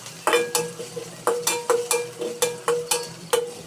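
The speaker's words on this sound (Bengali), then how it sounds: "পেঁয়াজ আর মরিচ কিছুক্ষণ নেড়ে চেড়ে লাল লাল করে ভেজে নিব" Chopped onions and sliced green chilies fry in a wok while a utensil scrapes and stirs them in a steady run of about a dozen clattering strokes over a low sizzle, close and fairly loud, with no talking.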